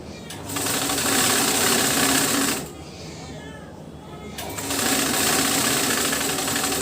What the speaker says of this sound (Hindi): क्वार्टर इंच लेकर सिलाई करेंगे।